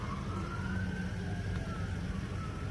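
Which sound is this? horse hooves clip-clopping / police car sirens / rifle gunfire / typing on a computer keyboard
police car sirens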